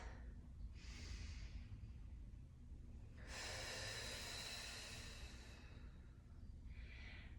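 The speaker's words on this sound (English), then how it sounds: "Continuing with your gentle breath." Gentle breathing during an abs workout, a few soft, airy breaths with quiet pauses between them, close but faint over a low background hum.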